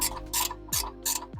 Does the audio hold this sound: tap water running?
no